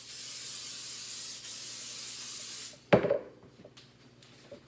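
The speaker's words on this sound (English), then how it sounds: "I'm going to spray my pan" A steady aerosol cooking spray hisses onto a muffin tin for nearly three seconds, stops, then a few clattering knocks of the metal pan follow.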